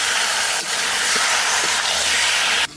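Goat meat and its fat drop into a pan of onions fried deep red, setting off a loud, steady sizzling hiss that holds for nearly three seconds before cutting off abruptly.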